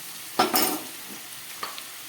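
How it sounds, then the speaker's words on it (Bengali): Potatoes frying in a pan for a light vegetable curry, with a couple of short stirring scrapes and a soft sizzle that fades to a quiet background hiss, close by and fairly faint. "আলুটা অনেকটা ভাজা হয়ে গেছে"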